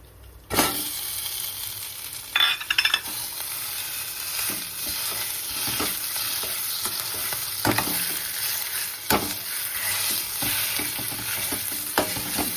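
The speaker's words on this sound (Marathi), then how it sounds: "आता हा बटाटा घालून देते याच्यामध्ये" Boiled potato sautés in ghee in a pan for a sweet potato sheera, a close, continuous sizzle punctuated by repeated spatula scrapes and knocks against the pan, with no talking.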